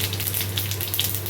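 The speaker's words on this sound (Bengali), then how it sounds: "তেল গরম হয়ে গেছে, গ্যাস ছোটো করে দিচ্ছি। সাদা জিরে," White cumin seeds crackling in hot oil over a lowered gas flame, a dense close sizzle with a few sharp pops, steady and without talk.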